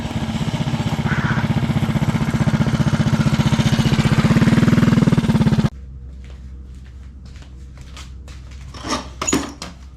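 Loud, unmuffled small engine of a Go Power Sports Rascal mini bike with no muffler can fitted, droning with a steady harsh rattle for about six seconds before cutting off abruptly, followed by faint scattered clicks and knocks.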